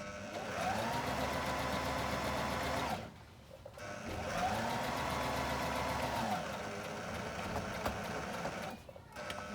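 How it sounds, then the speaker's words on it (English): A sewing machine runs a straight stitch across wheat bag fabric with a steady, close mechanical whir in two long runs, briefly stopping between them, then stopping again near the end. "I'm just going to use a straight stitch here. And go all the way across."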